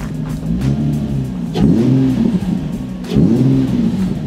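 A Nissan 350Z engine idles with a deep, rough rumble, then two sharp throttle blips rev it up and let it fall back, heard close to the exhaust with no talk.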